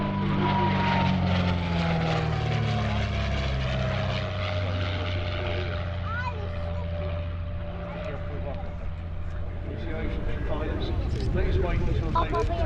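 A de Havilland Comet aircraft engine drones loud and steady at Old Warden airfield, its pitch sliding slowly downward as it passes. A commentator talks over it throughout.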